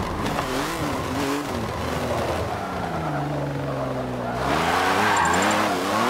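A tank driven as a race car in Forza Motorsport 7 roars loudly and continuously, its engine note rising and falling through gear changes and then swelling again toward the end.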